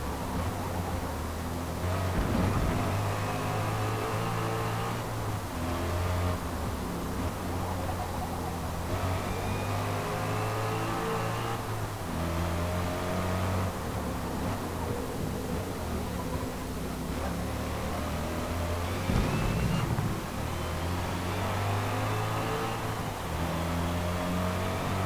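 Heavily upgraded road car in Forza Motorsport, handling-tuned but not a track car, its engine droning steadily with shifting harmonic tones throughout, a continuous loud drive with brief surges near two seconds and twenty seconds.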